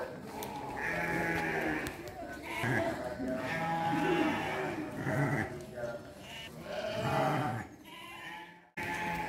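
Sheep bleating amid the bustle of a Garut sheep market at Wanaraja, where rams are traded; several calls rise over crowd noise and nearby voices talking, fairly loud and close throughout.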